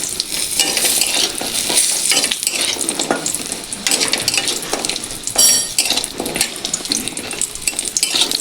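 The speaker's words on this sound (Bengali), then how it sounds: "এই তেলে আমি বড়িগুলো দিয়ে দেব। বড়িগুলো লাল করে ভেজে নেব।" Lentil dumplings (bori) frying in oil in a home kitchen, with a loud, continuous close sizzle and crackle, joined by occasional clinks of a utensil against the pan.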